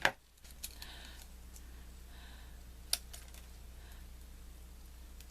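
Scissors snipping flowers apart for wedding favors: a few sparse, faint clicks spread over a quiet room with no talking.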